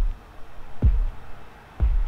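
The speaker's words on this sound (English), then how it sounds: "And then I have an extra kick layering it on the ones." Booming kick drum hits with an extra kick layered on the ones of a simple hard-hitting beat, three heavy low thumps about a second apart, loud and alone.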